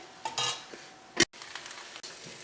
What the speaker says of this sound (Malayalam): നമുക്ക് നന്നായിട്ടൊന്ന് ഇളക്കിയിട്ട് കൊടുക്കാം.